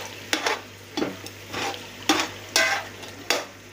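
A spoon stirs beef and spices in a cooking pot for beef pulao, giving six or seven sharp scraping, sizzling strokes at an uneven rhythm, close and fairly loud, with a steady low hum underneath.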